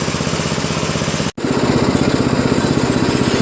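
Craftsman LTV 10 VariDrive lawn tractor engine running close and loud, a steady rapid chugging pulse that cuts out for an instant before resuming at the same rough, even beat.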